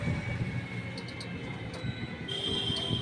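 A train on the Krishnanagar to Mayapur rail line rumbles steadily with low wheel-and-rail noise and a faint squealing tone, continuous and fairly close, with no talk.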